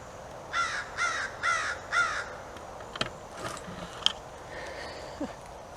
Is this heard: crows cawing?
yes